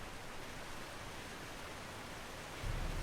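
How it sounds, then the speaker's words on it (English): Waterfall in the video game Nancy Drew: The Shattered Medallion, a constant broad roar of falling water that swells slightly louder near the end. "Ooh, there's a waterfall."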